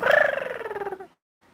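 A voice imitates the soft, rapid trilling cuddle call of baby geese, one wavering burst about a second long, close and clear, then silence.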